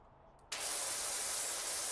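Pressure washer spraying in the video game Powerwash Simulator 2, a sudden loud hiss that kicks in after a short quiet start and holds steady and close to the end.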